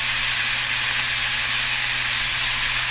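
Beef browning in a Mexican clay cazuela, a loud steady sizzle and hiss of meat frying that continues without pause.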